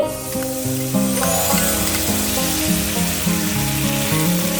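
Cumin powder and tomato paste sizzle in a pan as they are stirred for a village-style Bengali bata fish curry, a broad frying hiss partly masked by steady melodic background music.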